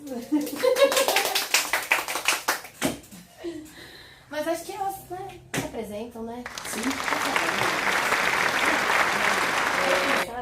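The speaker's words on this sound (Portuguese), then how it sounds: "Palmas pra elas!" People talk briefly before an audience erupts into sustained, dense clapping and applause at a Brazilian community talk event, continuing loud and steady to the end.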